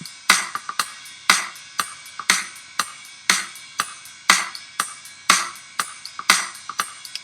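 A punchy kick drum beat from Logic Pro X Drummer, repeated kick hits in a steady rhythm, close and clear, with sharp transients and no voices.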